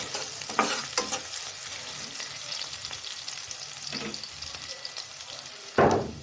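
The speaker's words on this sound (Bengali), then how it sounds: "পেঁয়াজগুলো হালকা লাল করে ভাজবো আমি" Chopped onions fry in oil until light brown. A steady close sizzle runs throughout with scraping stirs, and a louder burst of crackle comes near the end.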